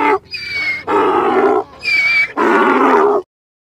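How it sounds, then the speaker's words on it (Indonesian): A donkey gives four loud, harsh braying calls in quick succession, alternating rough inhaled and exhaled tones close by, then stops abruptly. "Ini bukan kuda, tapi keledai."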